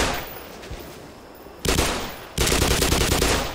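An automated turret gun firing in Black Mesa, faint distant shots at first, then two loud sustained bursts of rapid fire, the second running to the end.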